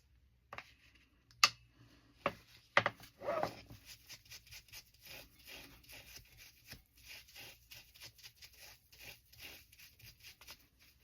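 Ink is rubbed onto a paper tag, producing soft, close scratchy brushing strokes in a quick irregular rhythm, with a few sharper taps near the start, all faint.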